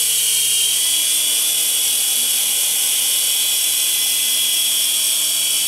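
A small toy helicopter hovers indoors close by, its rotor and motor giving off a loud, steady high-pitched whir and buzz that holds constant throughout, with no voices.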